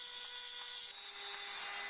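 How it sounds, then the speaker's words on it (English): An end-of-game buzzer at an indoor National Futsal Series match sounds as a steady, faint electronic tone, held throughout without a break. "And there goes the buzzer"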